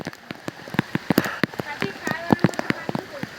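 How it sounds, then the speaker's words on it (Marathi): Heavy monsoon rain pelts down at Raigad fort, with dense, irregular drops spattering close by on plastic and stone in a steady downpour. "जबरदस्त असा पाऊस बघू शकता"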